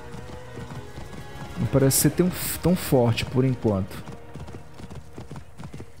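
Rhythmic hoofbeats of a galloping horse in Assassin's Creed Origins run beneath someone speaking Portuguese, with a steady game-like background hum.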